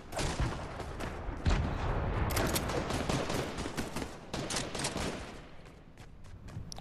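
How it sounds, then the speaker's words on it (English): Rapid bursts of gunfire with bullets whizzing past in a Fortnite match, with dense, continuous crackling shots near and far, and no talk. "bullet went over my head"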